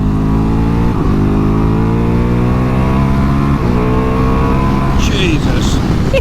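A Ducati Multistrada V4S accelerating hard, its engine note climbing loud and close through the revs with brief dips at gear changes, while the rider talks over it.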